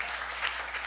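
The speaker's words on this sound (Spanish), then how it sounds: "Denle un aplauso a Dios" Applause from a church congregation during a Catholic liturgy, a brief, steady burst of many hands clapping that fills the room at even strength.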